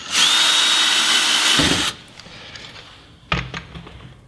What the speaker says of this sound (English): we're going to take a drill, start off with a smaller drill bit